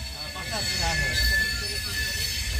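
A passenger train in motion, with a continuous low rumble and high wheel squeal heard from inside the carriage and faint voices in the background.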